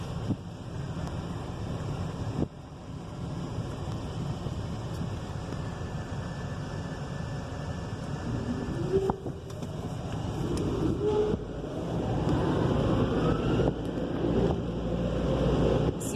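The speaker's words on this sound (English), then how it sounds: "These are called Bellinger air cannon dryers." Belanger air cannon dryers at a Pioneer CleanExpress car wash blow with a broad, steady roar that swells noticeably louder toward the end, hissing and rumbling alone without talk.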